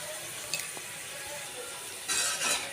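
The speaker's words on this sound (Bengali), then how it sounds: "মশলাটাকে ভালো করে কষাতে হবে।" Spice masala is stir-fried in a pan for a thin meat curry, making a soft, low sizzle with a few light scrapes and a louder burst of frying near the end.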